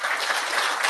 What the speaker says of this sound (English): So round of applause to Bill, I think.